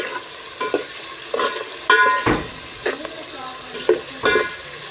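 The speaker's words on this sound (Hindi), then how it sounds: "लाल मिर्च के साथ इसको भून लेंगे" Tomato and onion frying in a pan with turmeric and red chili, stirred repeatedly by hand: soft steady sizzle underneath, with a series of scraping stir strokes and clinks at irregular intervals, close and fairly quiet.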